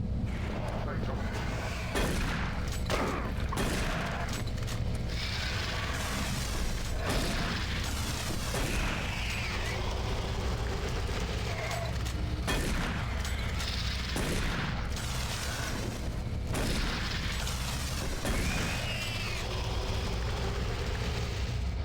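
Repeated heavy gunshots and booming blasts in the Doom 3 video game, spaced every couple of seconds over a constant rumbling mechanical drone, with a voice talking at times between them.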